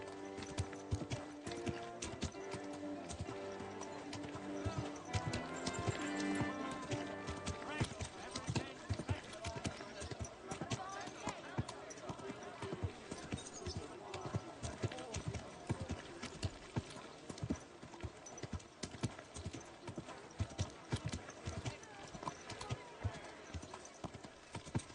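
Steady clip-clop of horse hooves trotting in the video game Kingdom Come: Deliverance II, over busy background music, with a horse neighing at times; no talk in between.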